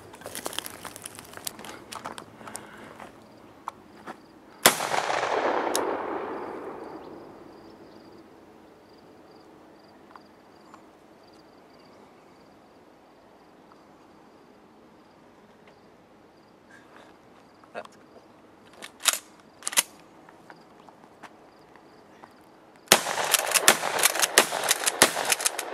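A 12 gauge shotgun fires tracer rounds outdoors: one loud, sharp blast with a long, fading echo, then a quiet stretch with faint insects before a rapid string of closely spaced, loud shots near the end.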